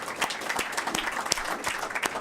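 Brief, lively audience applause at a homeland security conversation event, a dense burst of clapping from a crowd, fairly close and uneven in loudness.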